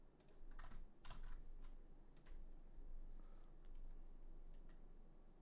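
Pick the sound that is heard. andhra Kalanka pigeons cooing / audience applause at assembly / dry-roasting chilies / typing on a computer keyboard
typing on a computer keyboard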